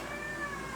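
Cats meowing indoors, a bit agitated, with a sustained tonal cry running through the short moment over a steady background hiss.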